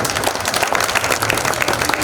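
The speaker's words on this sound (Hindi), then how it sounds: "मैं वाकई में माननीय मुख्यमंत्री जी के लिए चाहूंगा आप सब एक बार ताली बजा दें" Crowd applause for a chief minister at a public gathering in Indore, a steady dense patter of many hands clapping throughout, fairly loud and even with no clear breaks.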